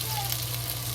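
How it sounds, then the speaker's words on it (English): Chopped ginger sizzles in hot oil in a pan, a steady close frying hiss with a low hum underneath, brief and even. "You see the oil start frying, it means the oil is hot"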